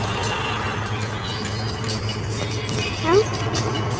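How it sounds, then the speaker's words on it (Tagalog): Inside a noisy car stuck in traffic by the seaside, a constant low engine and road rumble fills the cabin, with a brief squeaky whine near the end; someone talks over it. "Ang ingay naman dito sa loob ng sasakyan."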